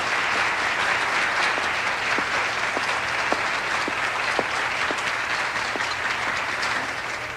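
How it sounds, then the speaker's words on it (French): Steady audience applause fills a televised contest as the crowd cheers the young female contestants, a dense, even wash of clapping sustained throughout with a few sharper individual claps poking through, fading slightly at the end. "Et on applaudit toutes nos belles et jeunes concurrentes."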